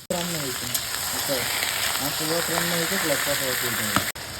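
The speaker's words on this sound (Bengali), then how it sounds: "মশলা কষানো শুরু তারপরে চিকেন দিয়ে দেবো" Onion and spices sauté for chicken curry at a picnic, a steady loud sizzle with stirring, while someone talks over it throughout.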